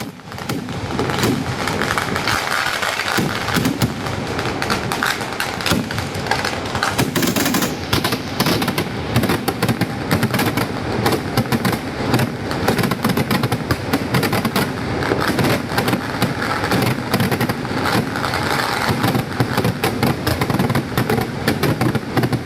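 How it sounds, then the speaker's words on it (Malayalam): Dense, continuous barrage of fireworks at the Uthralikkavu temple festival, rapid loud cracks and booms rolling without pause like gunfire, with a crowd faintly audible beneath. "കരിമരുന്നിൽ വാനിൽ ഒരുക്കിയ വർണ്ണക്കൂട്ടുകൾക്ക് ആർപ്പു വിളിച്ചാണ് വെടിക്കെട്ട് പ്രേമികൾ സാക്ഷ്യം വഹിച്ചത്."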